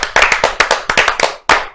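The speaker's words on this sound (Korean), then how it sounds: "박수" A small group claps in about a dozen sharp, uneven bursts during a Korean political talk broadcast, loud and close, with a brief gap before a final clap.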